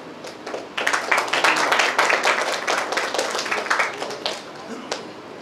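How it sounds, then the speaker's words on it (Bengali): An audience at a reception ceremony breaks into applause, a burst of close, uneven hand clapping that rises quickly, holds briefly and tapers off. "সেই সাথে দর্শকদের কাছে অনুরোধ জানাচ্ছি একটি জোরে করতালি হবে"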